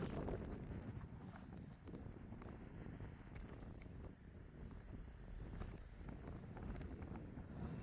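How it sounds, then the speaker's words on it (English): Wind gusting steadily across an outdoor camping site in the West Mendip Hills, buffeting the microphone with a constant low roar and rumble and no speech over it. "here's the bloody wind again"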